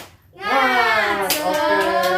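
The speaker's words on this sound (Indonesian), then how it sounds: "Tepuk semangat." A group chants a long, rising word as part of a 'tepuk semangat' cheer in an Indonesian primary school class, with a few light claps tapping underneath the voices toward the end.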